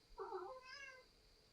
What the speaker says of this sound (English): Here comes a cat off the screened-in porch.